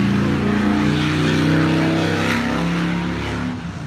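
Cars and trucks roll along a highway about 200 feet away, heard from a parking lot beside a drive-through, making a steady, fairly loud engine drone that fades slightly toward the end.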